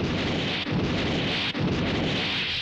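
A napalm blast and gunfire in an anime battle scene, a continuous dense roar of explosive rumble with brief dips, loud and close with no voices.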